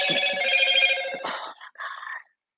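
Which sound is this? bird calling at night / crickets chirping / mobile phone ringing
mobile phone ringing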